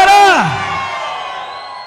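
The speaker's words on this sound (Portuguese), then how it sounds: "Cadê o gritão da galera?" A crowd at a live forró show lets out a loud, sustained shout and cheer, with a rising whoop sweeping up then falling away into a broad roar over the band.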